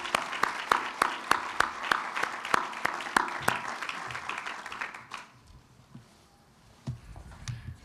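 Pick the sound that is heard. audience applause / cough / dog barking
audience applause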